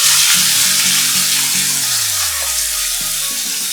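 Onions dropped into hot ghee with cashews for upma, a dense continuous sizzle close up, loud and steady throughout, with a low tonal hum underneath and no speech.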